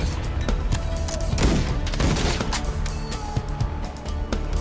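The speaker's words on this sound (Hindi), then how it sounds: "गोली पर गोली चलत है भाई।" Dense, continuous gunfire in a Call of Duty Modern Warfare match, with rapid cracks and booms piling over each other in a loud, unbroken battle din.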